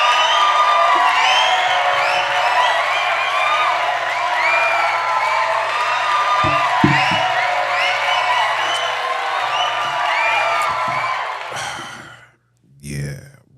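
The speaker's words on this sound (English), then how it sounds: "Round of applause for that" A large audience cheers and whoops continuously in a dense wash of many voices. The crowd noise stays loud for several seconds, then fades out near the end with a few thumps.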